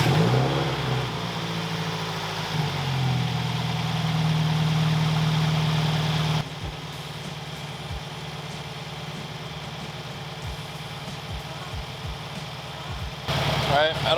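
A car engine fitted with a new GrimmSpeed front-mount intercooler running at a steady idle, loud and close, with a rev change early on, then a quieter, muffled stretch with clunks and a person talking over it.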